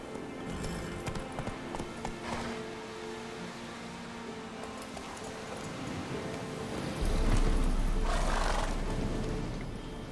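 Horse hooves in The Witcher 3, the rider's horse Roach, clopping at a steady trot under rumbling ambient game noise, with a low heavy swell later on; no talk.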